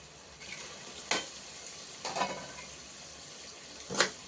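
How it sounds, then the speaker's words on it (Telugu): Salted fish goes into a simmering curry in a pan. Soft bubbling and stirring carry throughout, with a few sharp scrapes and clinks spaced about a second apart. "ఇప్పుడు ఈ ఉప్పు చేప వేసేస్తున్నానండి"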